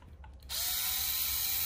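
Small electric driver fitted with a 2.5 mm bit backing screws out of the rear bumper of a Traxxas Hoss RC truck, a steady high buzzing whine that starts abruptly after a faint pause and runs on close and even.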